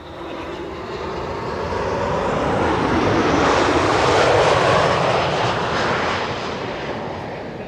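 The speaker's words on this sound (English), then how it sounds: "Max 8 arriving from Warsaw, flight 263" A Boeing 737 MAX 8 airliner arrives at Schiphol, its engine roar loud and sustained, swelling to a peak mid-pass and then easing off as it goes by.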